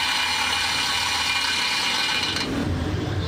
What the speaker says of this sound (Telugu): ఒక డ్రిల్ మెషిన్ తీసుకొని మన షాప్ నుండి ఒక క్లచ్ వైర్ని బిగించుకొని దాన్ని జాగ్రత్తగా డ్రిల్ అయితే చేసి